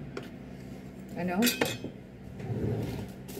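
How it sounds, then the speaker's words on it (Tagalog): A utensil stirring pork steak marinade with pepper in a bowl, giving clinks and scrapes against the dish, louder in the middle, with faint talk in the background. "So, atin pong haluin sa ating"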